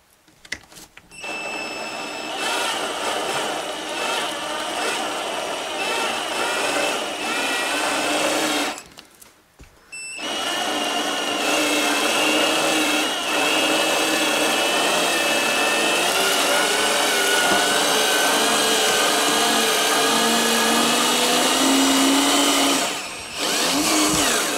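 A power screwdriver backs a screw out of a wooden sauna wall board, whirring in long steady runs with a short pause midway, close and fairly loud.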